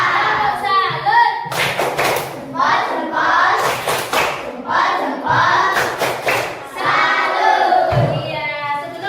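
A class of students doing a rhythmic clapping cheer, with loud bursts of claps and thumps alternating with the group chanting and shouting in unison throughout.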